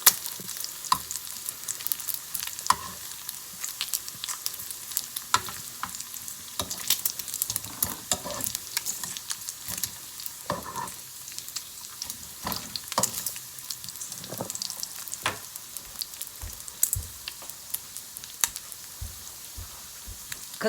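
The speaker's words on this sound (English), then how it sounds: "Now this bacon is just pretty thin, so it's not taking long to cook." Thin bacon fries in a pan on a stovetop at medium-high heat, giving a continuous close crackle full of sharp pops and spatters that lasts about twenty seconds.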